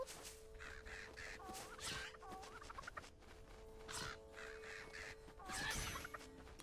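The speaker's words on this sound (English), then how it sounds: "Dang crows, man." Crows caw in Zelda: Echoes of Wisdom, giving repeated harsh calls in uneven bursts over a steady background tone of game music.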